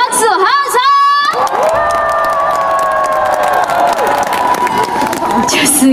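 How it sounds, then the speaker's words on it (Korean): Concert crowd at a Christmas concert beside the Taehwa River in Ulsan cheering and clapping loudly after a singer's first song, with whoops and shouts layered over steady applause throughout. "더 크게 박수 함성!"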